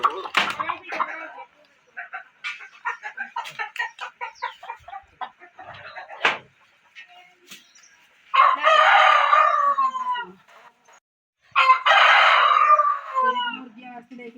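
Hens cluck and call nearby in bursts on a rainy day, with a couple of long, loud squawking outcries breaking through between quieter stretches of clucking.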